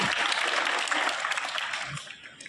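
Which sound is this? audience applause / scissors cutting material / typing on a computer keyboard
audience applause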